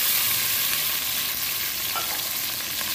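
Chopped bacon sizzles and crackles in olive oil in a pan, a dense, steady frying hiss heard close and alone.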